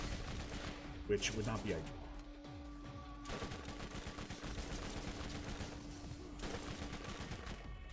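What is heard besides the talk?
turret gunfire in Borderlands video game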